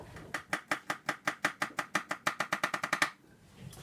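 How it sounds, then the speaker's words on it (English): A knife chops garlic cloves thinly on a cutting board for Indian baingan bharta, about twenty crisp, close taps in a quick steady rhythm that speeds up near the end, then stops. "Slice it up really thin."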